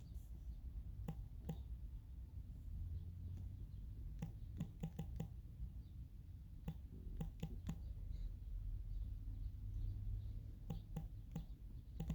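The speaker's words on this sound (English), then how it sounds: "I might have to type this in." Scattered keyboard clicks, sparse and irregular, come and go at low level over a steady low hum, with no voices present.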